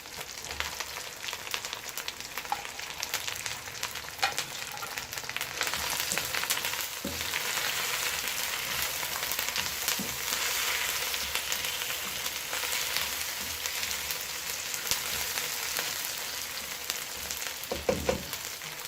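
Tomatoes fry in a pan for chicken biryani, giving a steady bright sizzle with occasional crackles and soft stirring sounds, close and moderately loud, without talking.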